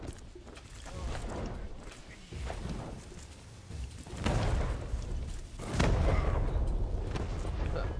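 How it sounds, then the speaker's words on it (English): Fireworks burst in the video game Boarding Utopia, a series of deep booming thumps arriving every second or two, growing louder toward the end over a rumbling background. "Enjoy the fireworks."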